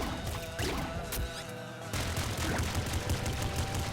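Dense bursts of rapid gunfire and impacts fill a chaotic firefight in the PC game Nuclear Throne, loud and continuous with a short lull partway through, and no talking.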